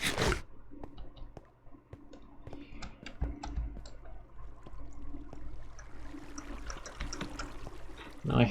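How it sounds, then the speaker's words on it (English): Faint trickling water in a corrupt factory game level, a steady low wash under scattered light clicks and taps, with a louder burst of noise at the very end. "I hear water."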